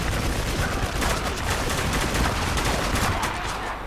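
Rapid bursts of gunfire in the video game Spec Ops: The Line crackle continuously over a dense, noisy background, a steady barrage of shots with no pauses.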